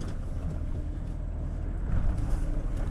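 A four-wheel-steering electric off-road vehicle with three independent rear motors crawls over a pile of rocks, giving a low rumbling, crunching drive noise with some wind buffeting, close and steady throughout.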